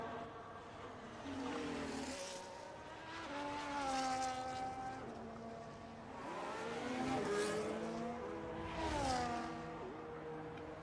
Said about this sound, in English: As Pink's coming up to the final corner now, about to start his second run